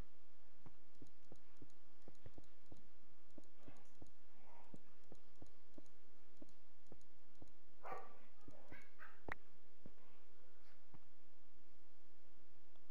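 Dogs bark faintly in the distance outdoors, with a cluster of barks partway through, set against a low steady hum and scattered soft clicks.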